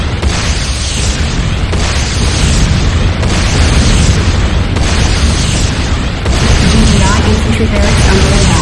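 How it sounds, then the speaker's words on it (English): A GDI Tiberium refinery explodes in C&C Renegade, a loud continuous roar of rumbling blasts and debris that holds steady for several seconds, with a voice announcing over the din. "GDI Tiberium refinery destroyed."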